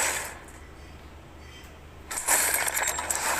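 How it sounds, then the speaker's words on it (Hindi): A crate opening in a video game, with a bright metallic jingle like dropped coins bursting in after a quiet stretch and shimmering to the end. "अब भाई साहब दूसरी मैंने क्रेट खोली"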